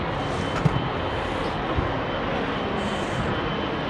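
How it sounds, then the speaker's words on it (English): Airplanes near the airport give off a steady, loud, broad roar of engines that carries on without a break, with no voices. "I'm pretty sure this is going to be really noisy, obviously, because we're right by where the planes are."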